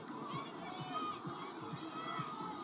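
Distant crowd noise at a women's rugby sevens final between Shelford and Wild Dogs, a broad murmur of spectators on the far side of the ground, with a commentator talking over it.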